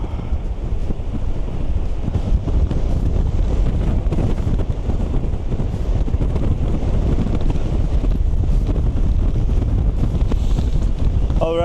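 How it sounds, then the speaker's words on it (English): Strong wind buffets an outdoor camera microphone on the coast of Rebun Island in Hokkaido, Japan. It makes a loud, continuous low-frequency roar and rumble that runs steadily throughout. "the wind is just blowing way too strong"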